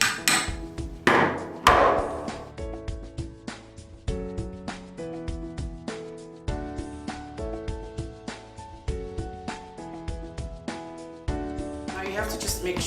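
A tin can is pierced with pliers, giving a run of sharp metallic knocks and clinks at an uneven pace, close and clear, several strikes in a row with short ringing decays.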